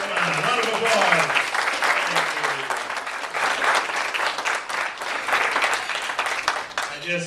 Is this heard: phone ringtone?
no